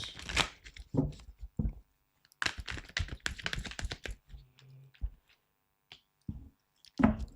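Tarot cards shuffled and drawn by hand, heard as a series of close, crisp riffling and slapping bursts with short pauses in between, fairly quiet overall.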